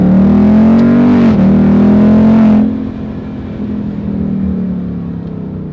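A Ford Mustang GT V8 exhaust revs up loud and close with a rising throaty drone, then the revs drop sharply and settle into a lower, steady rumble.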